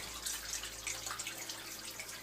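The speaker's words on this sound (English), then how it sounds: "There's my waterfall trickling away." Garden waterfall trickling into a goldfish pond, a soft, steady wash of splashing water held at an even, fairly quiet level throughout, with no voices.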